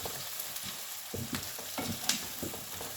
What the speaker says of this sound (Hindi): आलूओं को अच्छे से फ्राई करेंगे।